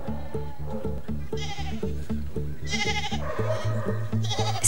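Moorschnucke sheep, a moorland heath breed from Lower Saxony, bleat repeatedly in a chorus of overlapping calls, loud and close, with no one talking.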